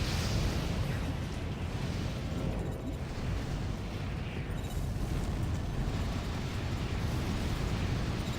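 Missile launches and explosions in the mech combat game Armored Core: For Answer, a dense, continuous rumble of bursts and booms that stays loud and steady throughout without pause.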